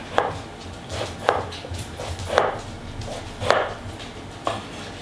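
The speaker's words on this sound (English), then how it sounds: "Just cut into about 1/2-inch cubes here." A kitchen knife chops eggplant into half-inch cubes on a board, with five sharp, evenly spaced cuts about a second apart, close and distinct against low background noise.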